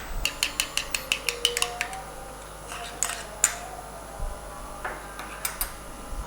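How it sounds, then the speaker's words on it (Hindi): An egg being beaten in a bowl for chocolate chip cookie dough: a quick run of about a dozen light, evenly spaced clinks and taps, then a few scattered knocks, close and fairly quiet with no talking. "अंडे को हम थोड़ा सा बीट कर लेंगे"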